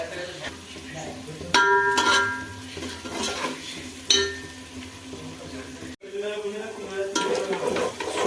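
Spices frying for a meat curry in a pan, a steady sizzle broken by the clatter and clinks of a metal spatula scraping and stirring, close and fairly loud.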